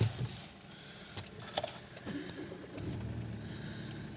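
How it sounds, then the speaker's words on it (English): A 2022–2025 Toyota Aygo being broken for parts starts up and idles, a brief crank and catch followed by a low steady engine hum, heard close with some handling noise. "and have the engine run."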